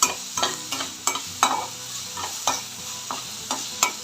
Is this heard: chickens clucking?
no